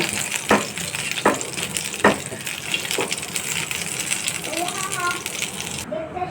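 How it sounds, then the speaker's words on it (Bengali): Cumin seeds and dried chilies fry in hot oil with a continuous sizzle, broken by several sharp metallic taps of a spoon against the pan about once a second, then a softer scraping stir near the end. "সঙ্গে জিরা দিয়ে দিব এখন ভেজে নেব"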